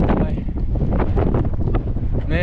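Strong wind buffets the microphone while someone rides a bike, a loud, steady, rumbling roar with gusty swells that fills the whole stretch and drowns out any other detail.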